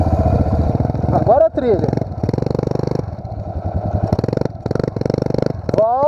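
A Pro Tork TR100F mini motorcycle ridden by a nine-year-old on a dirt trail revs with a buzzing, pulsing small engine that rises and falls in bursts. People talk over it.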